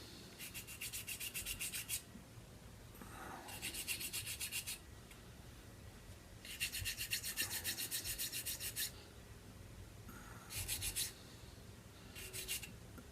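Repeated bursts of hand sanding on small wooden swivel-gun parts for a model ship, a dry rasping scrape in several strokes separated by short pauses, close and fairly quiet.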